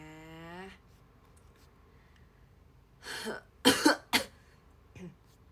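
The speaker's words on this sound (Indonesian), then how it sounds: "Kadang batuk aku tuh lebay." After a brief hummed tone, there's quiet, then a few harsh coughs in quick succession, close to the listener, trailing off with a small throat sound.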